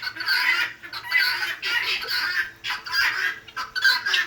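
Backyard chickens and a rooster cluck in close, busy overlapping bursts of varied pitch, with faint low ambient noise underneath.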